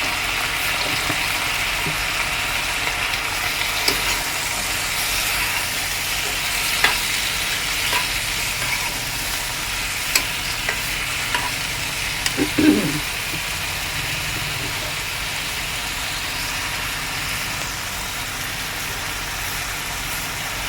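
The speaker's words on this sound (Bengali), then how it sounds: "জিরে, এবার দেবো লঙ্কা, বেশি ঝাল দেবো না।" Cumin seeds and chilli fry in oil in a pan for a fish curry, giving a steady close sizzle throughout with a few faint stirring clinks and one brief knock partway through.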